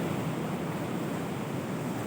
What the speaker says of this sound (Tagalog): So ang lalakas ng alon din Yan Grabe alon dito